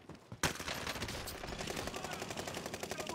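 Automatic gunfire in a video game shooter starts with a sharp burst and continues as a rapid, even rattle of shots, loud and close, with no talk over it.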